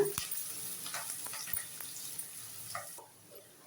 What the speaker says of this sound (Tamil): சேர்த்து இந்த வெங்காயத்தை நல்லா வதக்கிடுங்க